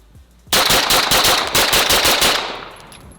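A Bul Armory Blaze 2011 pistol fires a rapid string of about a dozen loud, close shots at targets, each cracking in quick succession before a ringing decay.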